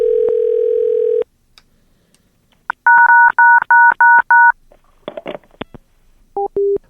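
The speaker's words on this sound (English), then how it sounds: "they picked up and hit a bunch of touch tones" A telephone dial tone hums steadily, then a quick run of about six evenly spaced keypad beeps sounds, followed by faint clicks and two more short tones, close and clear on a phone line.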